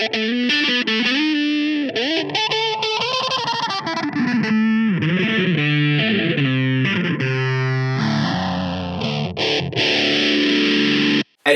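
Electric guitar through a Russian Big Muff fuzz pedal plays sustained, saturated notes and sliding bends, thick and buzzy throughout, loud and continuous.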